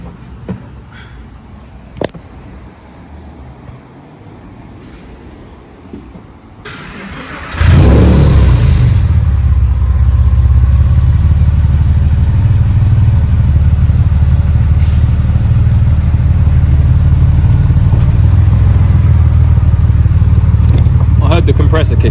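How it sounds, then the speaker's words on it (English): A Porsche 996 Carrera's engine fires up after several quiet seconds and runs at a loud, steady idle while its air-conditioning is recharged with new condensers. The close, continuous rumble holds unchanged to the end, with no distinct compressor engagement standing out. "I heard the compressor kick in."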